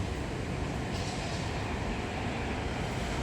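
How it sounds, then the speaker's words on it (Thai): A steady, loud rumbling roar of a passing BTS Skytrain on an elevated line in Thailand fills the whole stretch, constant and broadband with no voices. "ติดกับรถไฟฟ้า BTS เลยพี่น้อง"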